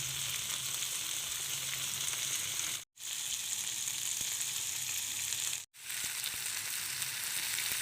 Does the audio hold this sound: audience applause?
no